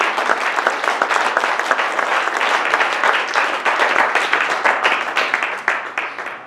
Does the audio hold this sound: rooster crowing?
no